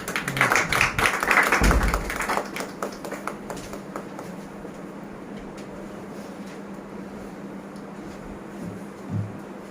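Applause from the audience at a mushaira poetry gathering in a Lahore hall, a burst of clapping that peaks early and then thins into scattered claps over a quiet room hum.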